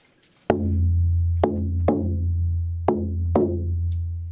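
A deep drum is struck in an uneven long-short pattern, each hit ringing out with a sustained low boom before the next.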